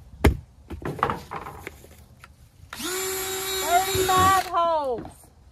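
Electric drill boring into wood on an old freezer lid, a steady whine running about two seconds and then winding down with a falling pitch. Brief knocks and clatter come before it.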